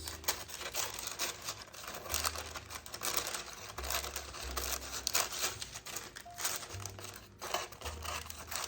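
Parchment paper being cut along a pressed crease line while making a Valentine's dessert, a steady run of close, dry crinkling and snipping that rustles continuously for several seconds with no talking.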